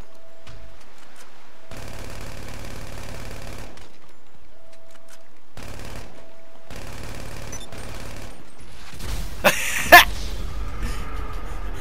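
Automatic gunfire in GTA 5, heard as several long, loud rapid-fire bursts separated by short gaps, with a sharper crash and clatter near the end.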